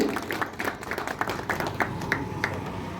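An audience at a biennial provincial and divisional convention of the Indian Railway Mail Service and Mail Motor staff applauds an organisation official, a moderate spell of scattered, rhythmic clapping with a few sharper claps standing out.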